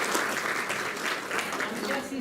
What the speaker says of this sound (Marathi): त्यानंतर ॲडव्होकेट सारिकाताई यांच्यासाठी जोरदार टाळ्या वाजवा।